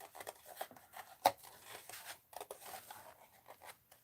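Scissors snipping paper for a recipe journal: a few short, quiet cuts and rustles, with one sharper snip standing out, all close and faint with no talking.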